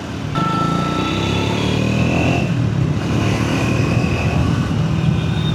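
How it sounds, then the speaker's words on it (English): A Triumph Speed 400 motorcycle with a 398cc engine, ridden steadily at low and mid revs, gives a continuous loud engine drone with a smooth, even note and steady road and wind noise throughout. "bike is really smooth to ride in lower RPMs and mid RPMs also."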